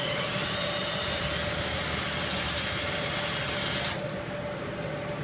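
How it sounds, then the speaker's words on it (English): A cylinder hone spins inside the cylinder of a 25 HP Kawasaki FH721V engine, giving a steady, close mechanical whir and grinding buzz that cuts off abruptly near the end, leaving only a quieter background hum. "I'm just going to put that in the cylinder wall, run it, go up and down with it"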